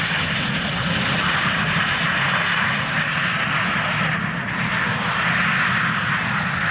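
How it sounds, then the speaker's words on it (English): A jet aircraft roars with reverse thrust after landing at the RAF Coningsby airshow in 1992, a loud, steady, broad rumble that holds without a break. "Well demonstrating the reverse thrust ability."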